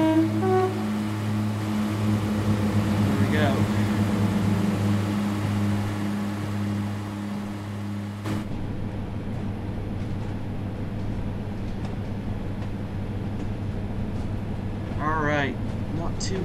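A Northern Pacer railbus in Train Sim World 4, running a Blackpool branch service towards Ormskirk, gives a steady droning engine hum with rattling undertones, a sharp clunk midway and a couple of rising whine sweeps.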